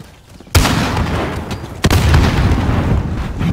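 A stun grenade detonates in Call of Duty Modern Warfare's Shoot House, a sharp loud boom at once followed by a dense sustained roar, then a second sharp burst, with no talk.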